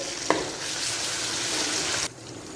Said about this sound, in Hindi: अब मैं इसके अंदर जो मेरे पास लहसुन अदरक का पेस्ट है मैं वो डाल दूँगी। मज़ीद 1 मिनट के लिए मैं इसको अच्छे से फ्राई कर लूँगी।